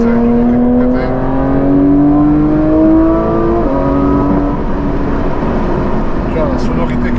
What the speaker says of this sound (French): C'est un moteur de GT3, c'est un moteur de fou.